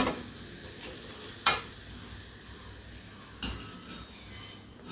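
Alu vadi, colocasia leaf rolls, frying in hot oil: a steady close sizzle, quiet throughout, with two sharp clinks of a utensil stirring the pan.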